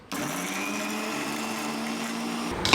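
A mixer grinder whirs steadily as it grinds fried onion for galouti kebab, a continuous high motor whine that starts abruptly and runs unbroken before cutting off.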